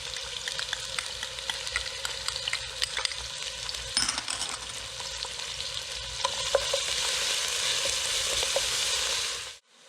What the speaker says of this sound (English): Got the palm oil all nice and hot. Gonna start by adding onion, garlic,